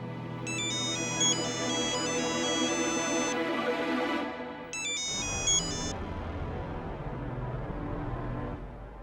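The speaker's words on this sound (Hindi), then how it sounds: "फोन उठाओ बेटा" A phone ringtone plays a repeating electronic melody over a background hum, cuts out briefly, then rings again before stopping.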